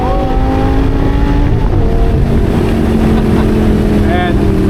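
A 600 HP 2014 Lamborghini Gallardo Performante accelerates hard down a track straightaway, its engine loud and close with rising tones as it pulls through gears, heavy wind rush throughout.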